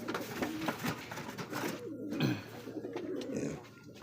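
Pigeons coo continuously at a busy pigeon market, with low, rolling calls overlapping throughout and someone talking nearby.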